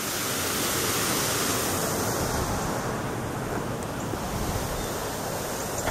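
Water pours over a small dam on the River Raisin in Tecumseh, Michigan, making a loud, steady rushing roar with no break and no voices.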